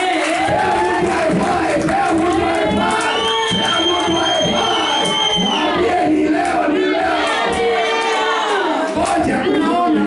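A church congregation loudly cheering and shouting for Jesus during a sermon, a dense sustained roar of many voices with overlapping cries that fills the whole stretch.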